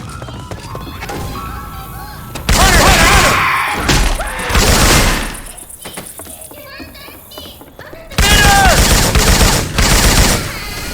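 Weapon sound effects from Syphon Filter swapped into the video game Left 4 Dead 2, with loud bursts of automatic gunfire and crashing impacts between quieter gaps, and voices talking throughout.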